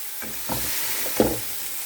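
Beef burgers frying in a dry pan with no oil, giving a steady broadband sizzle with a few brief louder bursts as the patties are nudged and stirred.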